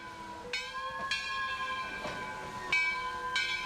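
A locomotive bell in Trainz 2022 rings in regular clanging strikes, about one each half second to second, clear and close over a low engine drone.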